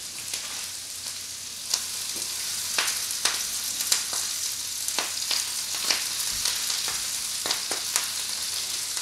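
Handfuls of kale sizzle and crackle in a hot pan, a dense steady frying hiss scattered with sharp pops and spits, close and loud, with no voices.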